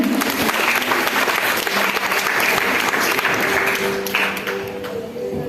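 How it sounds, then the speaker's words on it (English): Graduation audience at a secondary school ceremony applauds loudly and continuously, clapping sustained throughout with faint voices and room noise mixed in. "Alright, give them a round of applause."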